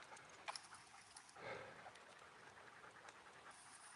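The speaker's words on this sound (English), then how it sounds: "These dogs, tongues out, gasping for air" Dogs pant with quick rhythmic breaths, quiet and close, over a faint steady background hiss, with a brief louder rustle partway through.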